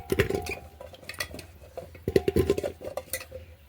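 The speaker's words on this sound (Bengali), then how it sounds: "এবার প্রেশারের মধ্যে দিয়ে দিচ্ছি পরিমাণ মতো আলু" Potatoes dropped into a pressure cooker, two clusters of hollow knocks and clattering metal pot sounds, close and fairly loud, no talking.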